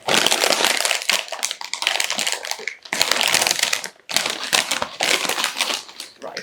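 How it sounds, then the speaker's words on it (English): A bag of crisps is torn open up close, giving sharp crackling, crinkling plastic rustles in three bursts separated by short pauses. "let's at least open the bag"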